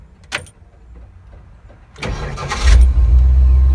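A warmed-up Ford 351C V8 cranks briefly on a new budget starter, then catches and settles into a loud, deep rumbling idle, close up with no talking.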